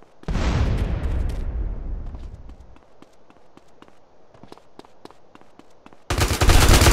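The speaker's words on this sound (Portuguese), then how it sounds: "Vou mandar uma granada bem aqui assim." In the game DayZ, a grenade blast roars loud and close, then trails into a sparse run of distant gunshots before another burst of loud noise cuts in at the end.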